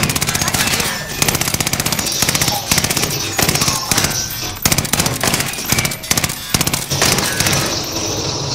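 Gunfire during a video game shootout: rapid bursts of loud, close shots in quick rhythmic volleys, repeated throughout with brief gaps between them, with players talking faintly underneath.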